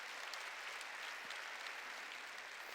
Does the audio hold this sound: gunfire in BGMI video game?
no